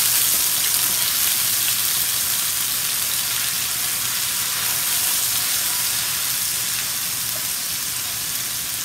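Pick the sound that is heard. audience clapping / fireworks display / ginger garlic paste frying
ginger garlic paste frying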